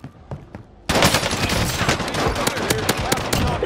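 Pistol gunfire in a video game starts abruptly after a quiet moment and becomes a dense, loud barrage of rapid shots that continues to the end, with voices faintly underneath.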